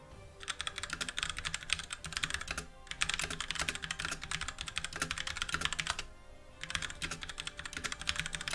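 Rapid, steady clicking of computer keyboard keys at close range, typed in long continuous runs with brief pauses, no voices over it, during a Pokémon battle session.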